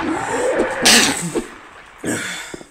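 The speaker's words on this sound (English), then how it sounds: "I have to sneeze!" A single person sneezes into a microphone during a horror game session: one sharp, loud burst, then a shorter follow-up exhalation and a few small mouth noises, close and dry.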